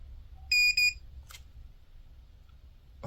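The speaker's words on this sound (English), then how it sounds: "I don't know what the beeping is doing" A KAIWEETS KGP01 pinpointer metal detector gives two short, high electronic beeps in quick succession, close and clear, followed by a faint click and near silence.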